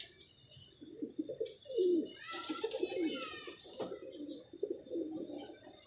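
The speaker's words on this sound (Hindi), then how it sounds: "ये फिरोजपुर या कबूतर है।" A Ferozpuri pigeon coos softly and close, repeated low throaty rolling calls over several seconds with faint rustling between them.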